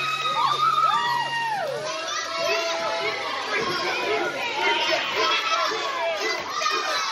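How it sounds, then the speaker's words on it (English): Wrestling crowd, heavy with children's voices, cheers, shouts and screams as Tripp enters the ring, a dense, loud and continuous roar of overlapping excited yells. "Tripp getting this crowd absolutely fired up"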